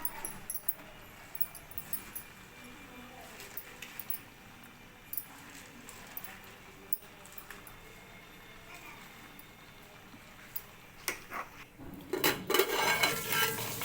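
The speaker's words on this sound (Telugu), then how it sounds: "అయితే ఒకసారి అంతా కలుపుకుందాం" A pan of spinach curry is stirred with a utensil that clinks and scrapes faintly against the metal, with louder clattering near the end.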